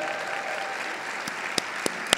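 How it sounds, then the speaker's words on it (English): Audience applause fills a college graduation convocation, a steady wash of clapping from a crowd with a few sharper individual claps standing out near the end. "Big round of applause."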